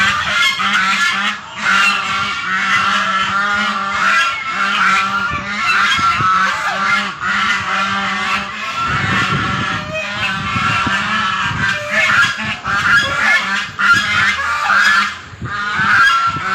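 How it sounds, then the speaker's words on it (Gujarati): A dense flock of ducks at a Hindu ashram near Rajkot, Gujarat, calls nonstop, loud and close, with overlapping honking quacks filling the whole stretch. "આપ જોઈ રહ્યા છો તે આશ્રમના બતક છે"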